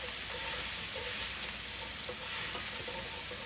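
Minced garlic sizzles in butter in a pan, a steady, close hiss and crackle of frying that holds evenly throughout with no talk.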